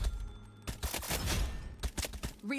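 An auto sniper rifle firing in the Wild Assault game, sounding as a quick run of sharp, loud shots in close succession with short gaps, under busy game noise.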